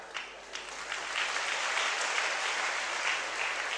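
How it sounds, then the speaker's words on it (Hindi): Hand clapping on a journey past papaya trees, a dense, steady patter of claps that runs continuously through the whole stretch at moderate loudness, with no talk over it. "पपाया के पेड़ देखकर मैंने ताली बजाई"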